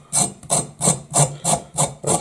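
A carrot's skin scraped off with a knife for winter vegetable soup, seven even rhythmic rasping strokes in quick succession, close and clear with no talking.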